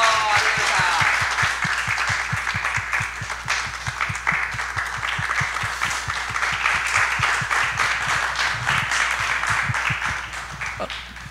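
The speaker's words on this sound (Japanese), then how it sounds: "大きな拍手をはいどうぞ" Sustained applause from a crowd, steady clapping filling the whole stretch without pause, fairly loud and close.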